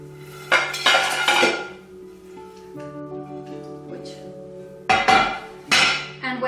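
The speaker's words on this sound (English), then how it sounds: "you need to put the chickpeas in it" Dry chickpeas rattle into an empty baking dish in two hard pouring bursts, a clattering hail of small hits ringing against the dish, separated by a lingering metallic ring and quieter settling.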